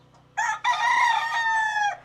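A caged fighting rooster crows loudly and close, one long sustained cock-a-doodle-doo in a truck yard, with no talk over it.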